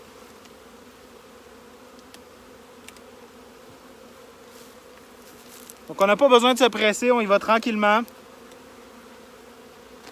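Honeybees arriving in a nucleus hive after a two-hour drive burst into a loud, close, wavering buzz for about two seconds, set against a low steady hum, with a calm voice speaking softly over the scene.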